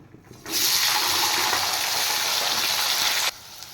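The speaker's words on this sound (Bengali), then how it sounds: "এবার সিম আর আলু ভেজে নেব।" Flat beans and potatoes hit hot oil with a sudden loud, steady hiss of frying that holds for about three seconds, then cuts off abruptly.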